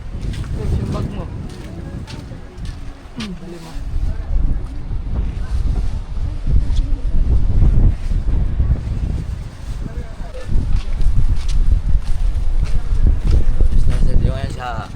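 Steady wind buffets the microphone in rumbling gusts throughout, with people talking underneath, on Boracay.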